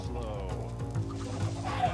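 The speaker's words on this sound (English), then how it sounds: "Chicken. Chicken." A chicken in the video game Minecraft clucks in short repeated bursts over a steady background of game music and ambience, moderately loud, with no speech.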